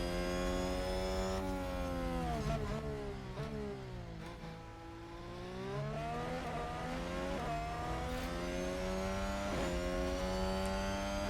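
Formula 1 race cars in the F1 Manager 2022 game at the Bahrain Grand Prix roar continuously with rising and falling engine pitch as they pass and shift, loud and steady with no talk.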